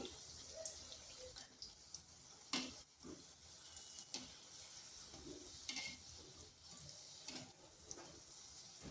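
Semolina and egg snacks frying in a pan over low heat, a faint, steady sizzle with occasional light clicks and stirring taps.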